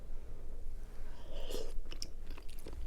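Someone chews a mouthful of spicy ramen with egg close to the mic, soft wet mastication and a few faint crunchy bites against a steady background hum, with no talking.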